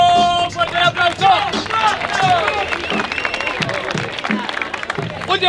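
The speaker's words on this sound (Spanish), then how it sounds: "¡Fuerte el aplauso!" A crowd at a rap battle cheers and applauds after a round, a rowdy wash of clapping and shouting with voices and whistles mixed in throughout, fairly loud and close.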